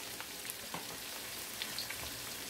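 Potatoes, onions, garlic and red pepper flakes fry in a pan with a close, steady crackling sizzle and scattered pops, no voices.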